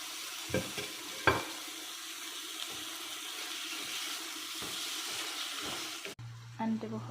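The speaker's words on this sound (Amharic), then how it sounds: "እዛ ማለት ሮቢያን እንጨምራለሁ" Shrimp sizzle in a hot pan, with a steady fry hiss broken by a few sharp stirring clinks. The sound cuts off abruptly near the end, and faint kitchen noise follows.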